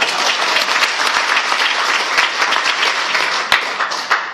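An audience at a lecture breaks into steady applause, dense and continuous throughout, with a few sharper claps standing out near the end and no speech over it.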